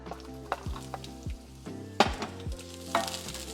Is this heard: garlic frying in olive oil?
yes